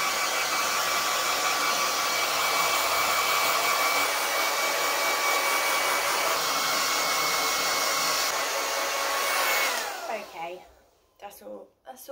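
Hair dryer blowing steadily while drying hair, a loud, constant whooshing roar close by for about ten seconds before it cuts off, followed by brief faint sounds.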